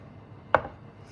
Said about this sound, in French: Je vais éplucher et émincer l'oignon.